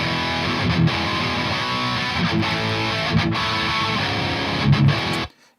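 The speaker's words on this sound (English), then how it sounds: "rhythm guitar sounds like this." Distorted rhythm guitar played through an amp simulator plugin with a tube screamer in front, a dense, steady chugging wall of crunchy chords that runs on without talk before stopping abruptly near the end.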